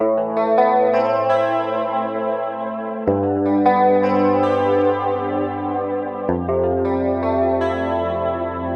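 A synth preset played through glitchy reverb and modulation effect plugins: loud sustained chords shifting every few seconds, thick with chorus-like warble, distortion and echoing tails.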